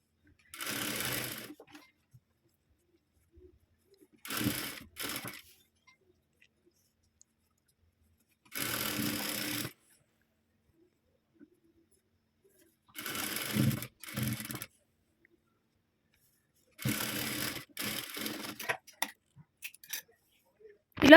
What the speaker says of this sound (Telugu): ఇలా ఫ్రంట్ పార్ట్కి స్టిచ్చింగ్స్ వేసుకోవాలి.